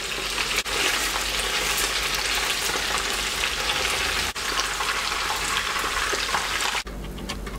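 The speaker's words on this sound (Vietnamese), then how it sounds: "thịt gà mình bỏ vô đây mình chiên cũng khoảng được 1 phút nha" Chicken crackles and sizzles steadily in hot oil, a continuous close-up frying hiss with a few brief dips, no voices.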